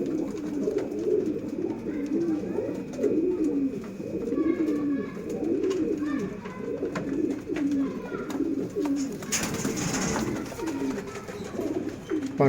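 Sialkoti chuhay kabootar pigeons coo in repeated soft, throaty bursts, several overlapping calls in a steady rhythm, close and fairly quiet, with a brief rustle of movement near the end.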